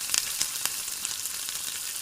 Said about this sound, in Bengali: এবার দিয়ে দিলাম আমি জিরে ফোড়ন,